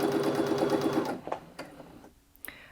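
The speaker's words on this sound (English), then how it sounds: "now if I let go of the button and continue sewing, it will sew in the normal way." Brother Innov-is A50 sewing machine running a normal forward stitch, a fast, even mechanical whir for about a second before it stops, followed by a few faint clicks and handling sounds nearby.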